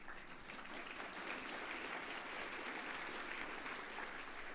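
An audience at a governance committee meeting of Blue Cross and Blue Shield of North Dakota applauds the board nominees, an even, sustained burst of clapping heard softly from a distance.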